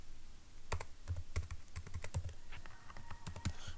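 Fingers type a Zoho Mail password on a computer keyboard, with quick irregular clicks and taps in short bursts, fairly close and quiet, and no voices.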